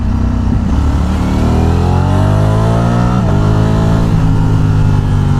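A Ducati Streetfighter V4 motorcycle engine revs hard under throttle, loud and close, its pitch sweeping up and down in repeated rising surges.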